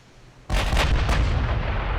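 Heavy naval gunfire from warships in the video game Ultimate Admiral: Dreadnoughts, a sudden loud blast after a quiet lead-in, followed by a second boom and a long rumbling roar that sustains to the end.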